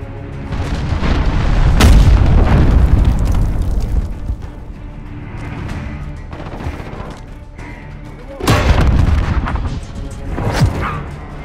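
Booming explosions and heavy gunfire from a cruise missile strike in the Call of Duty: Modern Warfare beta on Hackney Yard, with a loud sustained rumble early, a sharp blast near the end and fainter shots between.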